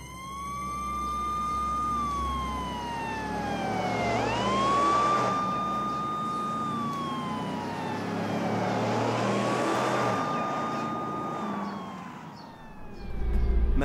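A wailing siren rises and falls in long, slow sweeps, loud and steady throughout with a low engine rumble underneath.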